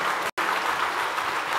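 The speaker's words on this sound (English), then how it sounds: "Can we get a big round of applause for Troy?" Audience applause at a real-estate capital-raising event, a steady dense wash of clapping from a room full of people, broken by a split-second dropout near the start.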